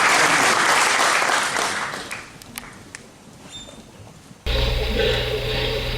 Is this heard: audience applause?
yes